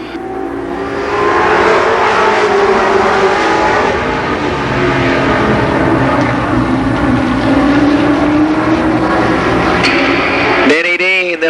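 A field of All American Midget race cars roars through a heat race at Columbus Motor Speedway, engines loud and sustained with continuous revving and pitch sweeps as cars pass close, under a track announcer's voice.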